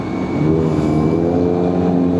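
A car with a loud aftermarket exhaust drives uphill on a mountain road trip, a steady, droning, rumbling engine note with strong low harmonics heard close and alone without talking.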